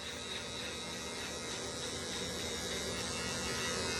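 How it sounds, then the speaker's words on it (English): An electric trimmer shaves a face with a steady, close, continuous buzz that holds an even level from start to finish, with no talking. "I've got a new trimmer here"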